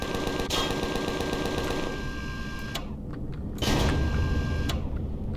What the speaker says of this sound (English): the turrets have finally started kicking off